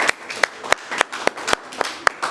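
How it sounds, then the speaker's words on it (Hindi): A small group claps at a celebration for a newly crowned Miss UP, with about nine sharp, fairly close hand claps spaced roughly a quarter second apart over soft background noise. "भाई आप लोग ताली बजाइए, फिर से ताली बजाइए।"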